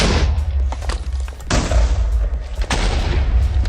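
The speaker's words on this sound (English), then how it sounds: "if I make the blast explosion set to, like, 3 or something, you could, like, one-shot point blank" Repeated booming blasts from custom explosive projectiles in the Minecraft video game, several heavy thuds in quick succession, loud and close with no talking.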